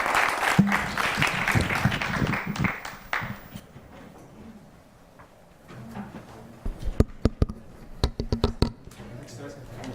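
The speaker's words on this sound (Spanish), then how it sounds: "Les pido un fuerte aplauso para ellos" An audience at an internet governance session applauds the panel members, with lively clapping for about three seconds that fades out, followed by scattered taps and handling noises in a quiet room.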